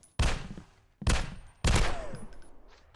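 An MP5 submachine gun fired in Deathbloom, three loud, close shots each trailing off into a ringing decay, spaced roughly half a second to a second apart.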